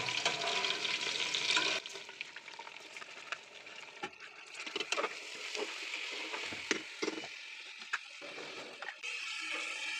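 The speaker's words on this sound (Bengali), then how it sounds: "এই আতপ চাউলটা আমি এখানে ঢেলে দিব" Atop rice is poured and stirred into a pot of frying mutton biryani, a loud rushing sizzle at first, then scraping stirs and clinks over a quieter simmering hiss.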